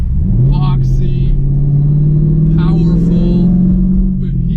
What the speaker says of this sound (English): it's literally shaking when you rev the engine